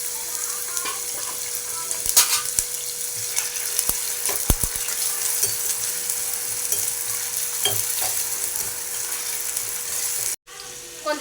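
Ginger sizzles steadily in hot oil in a pan, a close, dense crackle that runs for about ten seconds with a few scattered clicks of a utensil before it briefly cuts out.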